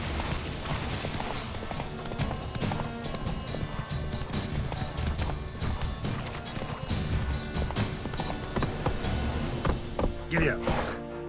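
Horse galloping in The Witcher 3, a steady run of close, rapid hoofbeats clattering over the ground for the whole stretch, with extra game noise mixed underneath.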